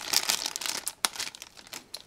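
Crinkly plastic packaging on a Gundam model kit being pulled open, a close run of sharp rustles and crackles with short pauses in between.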